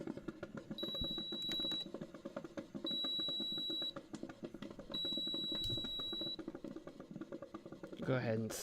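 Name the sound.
sudden electronic beeping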